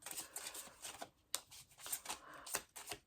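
Tarot cards shuffled and drawn by hand, soft riffling and flicking sounds in short bursts with a few sharper snaps, quiet and close with pauses between.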